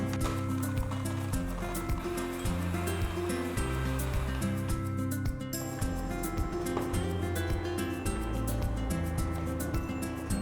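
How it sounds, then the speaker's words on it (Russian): An electric mixer whips butter with vanilla extract for a keto chocolate ganache, giving a steady, loud, continuous whir with a rattling edge and no pauses. "Вымешиваю масло до бела миксером."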